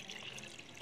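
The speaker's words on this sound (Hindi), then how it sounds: "अब हमने इसमें और पानी ऐड कर दिया ताकि अच्छी तरह प्यूरी बन जाए" Water is poured into tomato puree while homemade ketchup is being made, a brief, faint splashing trickle that lasts under a second.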